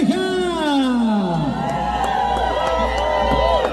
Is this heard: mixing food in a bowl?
no